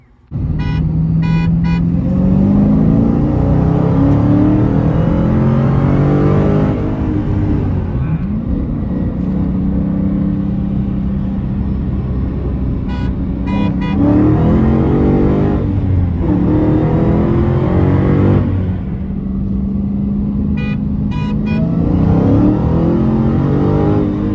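A Honda GoldWing motorcycle and a Dodge Challenger Hellcat in a roll race on public roads, engines roaring loudly under hard acceleration with repeated rising revs and gear changes over a constant wind rush.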